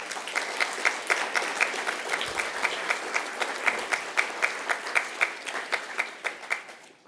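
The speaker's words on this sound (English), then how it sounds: "Give yourself a round of applause." Audience applause at an autonomous-vehicle awards ceremony, steady sustained clapping from a sizable crowd with a few louder distinct claps standing out over roughly seven seconds.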